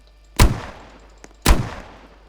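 Two loud revolver gunshots from the video game 99 Nights in the Forest, about a second apart, each a sharp crack with a decaying tail, plus a faint click between them.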